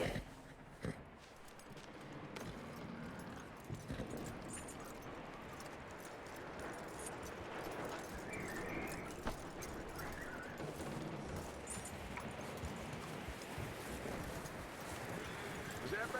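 Horse hooves clip-clop steadily at a walk in the Western game Red Dead Redemption 2, soft and fairly close under outdoor ambience, with occasional voices talking.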